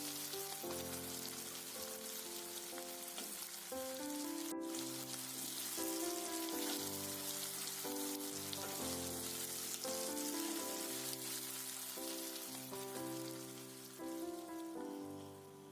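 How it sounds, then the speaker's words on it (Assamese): Half-fried duck meat sizzles in hot oil as it is stirred, a steady bright hiss continuing throughout beneath louder background music. "হাফ ফ্ৰাই কৰি থোৱা আছিল মাংসখিনি, সেইখিনি মই এতিয়া দি দিছোঁ তেলখিনিত।"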